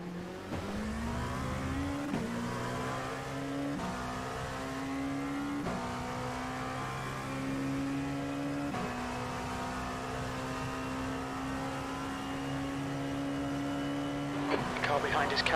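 A race car engine in a Le Mans 24-hour racing simulator game drones loudly and steadily, its pitch climbing and dropping in steps as the car shifts gears, with a brief noisy burst near the end.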